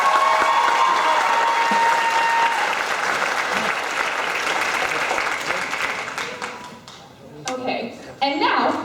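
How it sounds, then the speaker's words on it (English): A theater audience at a Legally Blonde stage show applauds loudly and densely, the clapping gradually thinning and fading toward the end as scattered voices come through. "So let's have a big round of applause for them."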